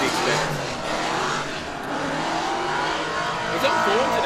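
A drift car's engine drones steadily on a track at moderate distance, with hints of tire squeal, under a commentator's voice.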